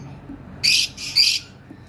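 Lovebirds at a bird farm let out two short, shrill, high chirping bursts in quick succession over a quiet background, fairly close.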